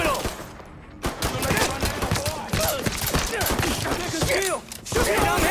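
Rapid gunfire from a Mafia 3 shootout crackles in dense, overlapping bursts of shots, near and loud, with a brief lull around the one-second mark before firing resumes nearly nonstop.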